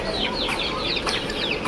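Desi hen on an Aseel chicken farm clucking near a brood of ten Aseel chicks, with repeated soft clucks and faint high chick cheeps over steady farmyard background noise.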